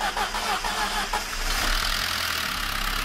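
A car engine cranks and catches after an engine swap, settling into a steady mid-pitched idle with a faint ticking from the hydraulic lifters, heard close by and without talk.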